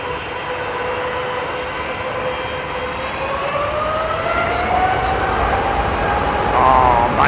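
Jet airliner with General Electric engines departing Heathrow, a loud sustained roar with a rising whine building steadily toward the end, loud wind-like rumble throughout.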